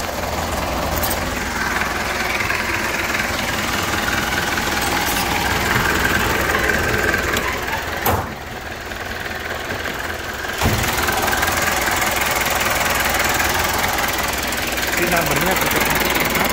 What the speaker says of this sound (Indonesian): Mesin sangat sehat, tarikan sangat nyaman.